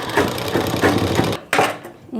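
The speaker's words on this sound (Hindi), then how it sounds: "ये साइड वाला साइड जो है उस साइड से हम सिलाई कर रहे हैं सीधा।" A sewing machine stitches a side seam of sharara pants, its steady rapid needle whir running close and loud before a brief pause and restart.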